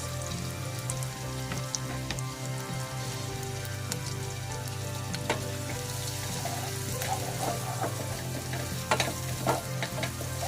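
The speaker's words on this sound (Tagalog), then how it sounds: "Kailangan maluto muna yung onion guys." Chopped onion frying in a pan for a cheesy shrimp dish, giving a steady close sizzle under a low hum, with scattered stirring clicks and scrapes throughout and no talking.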